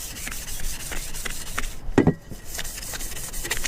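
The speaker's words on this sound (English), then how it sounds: "That's all you're going to do is just sand it," A car strut tower brace being hand-sanded to scuff its chrome surface before priming: rhythmic, close back-and-forth rasping strokes, about two or three per second, with a short pause midway.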